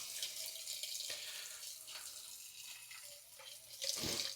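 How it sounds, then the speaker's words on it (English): Tap water runs into a sink in Bangkok for rinsing rice, a steady hiss of flowing water with small splashes and a louder gush near the end, close and alone. "no, you can't drink the tap water here, but it's pretty fine to use to wash the rice"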